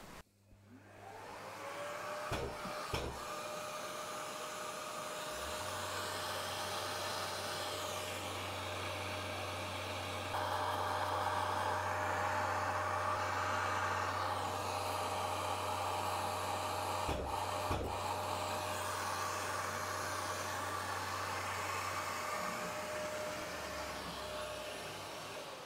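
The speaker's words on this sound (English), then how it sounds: "Just put the entire multifix holder onto the magnet, and I'm just surface grinding the top rake of the insert." A surface grinder works the top rake of a threading insert held in a multifix holder on a magnetic chuck, giving a steady, loud whine and hum that runs continuously with a few brief clunks and no talk.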